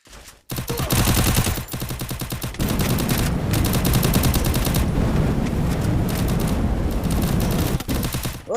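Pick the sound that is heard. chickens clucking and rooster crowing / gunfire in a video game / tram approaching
gunfire in a video game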